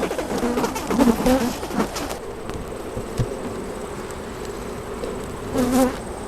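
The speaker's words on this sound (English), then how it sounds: "Some smoke in the air because bees are getting kind of pissed." Honey bees drone in a continuous buzz close by around a hive with smoke in the air, with occasional louder swells as insects pass near.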